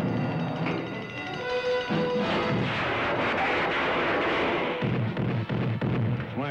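A launcher fires in a 1966 Lone Ranger cartoon: a loud, continuous roaring blast with rumbling and crackling that fills the whole stretch and fades slightly toward the end.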